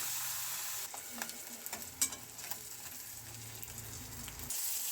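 Fish sizzles steadily in hot mustard oil in a wok, a dense continuous frying hiss with a few louder spits and stirring clatters near the middle, heard close and without speech.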